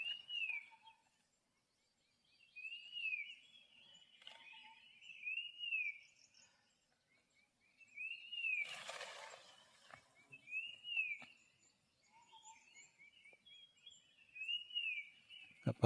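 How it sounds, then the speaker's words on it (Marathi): Birds sing in a monsoon forest in the Konkan, repeating whistled calls every couple of seconds, faint and somewhat distant, with a brief rustle in the middle and no talking. "पक्ष्यांचा आवाज भारी येतो."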